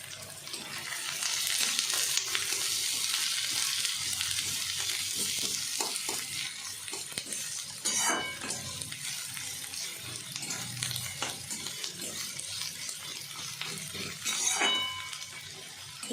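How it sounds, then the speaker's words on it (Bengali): Onions fry in hot mustard oil over a high flame, browning with a steady loud sizzle and occasional scraping stirs and clinks. "লাল লাল করে আমি বেরেস্তাটা করে নেব।"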